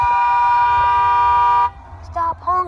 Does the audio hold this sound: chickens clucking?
no